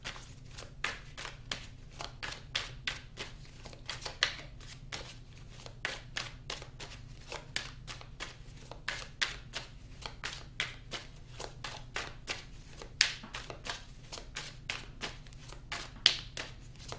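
Tarot cards being shuffled by hand, a steady run of crisp riffling flicks and taps at close range, repeating in quick rhythmic bursts with no talking.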